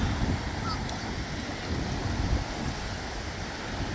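Waves wash onto the beach at Galveston, Texas, with steady broadband surf and wind rushing continuously at moderate loudness, with no clear speech.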